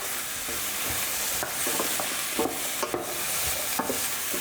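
Sliced bitter melon and vegetables sizzle in a frying pan while a utensil stirs them, producing steady crackling with sharp scraping clicks, close and without talk.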